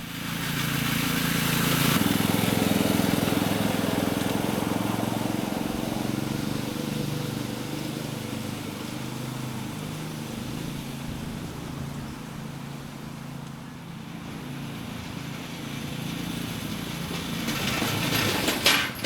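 A 1-inch scale gas mechanical model locomotive speeds up a 1 in 20 (5%) grade on rusty rails, giving a steady, fairly loud engine drone and rolling rumble that rises near the start and end.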